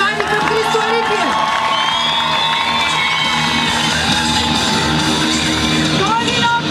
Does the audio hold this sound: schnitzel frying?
no